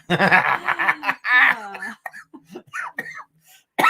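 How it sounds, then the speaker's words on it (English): Someone laughs and then breaks into a series of short, raspy coughs and throat clearing, close up, with breathy pauses between bursts. "Why do you always get coughing?"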